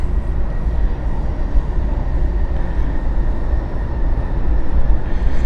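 A Lufthansa Embraer 190 jet inbound at Frankfurt Airport gives a steady, loud, low rumbling roar that holds evenly throughout with no talking.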